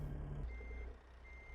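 Reversing alarm on a garbage truck in the American Truck Simulator game, a short high beep over a low diesel idle and rumble, fairly quiet.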